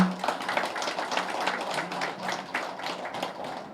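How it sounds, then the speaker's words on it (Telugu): An audience claps for spiritual teachers at a gathering, a steady round of many hands patting together at moderate distance. "ఒకసారి క్లాప్స్ కొట్టుకుందాం"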